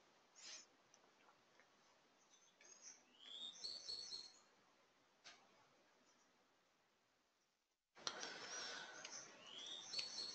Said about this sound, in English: No, those are the birds outside my window here.